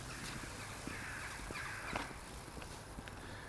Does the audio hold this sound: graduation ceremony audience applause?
no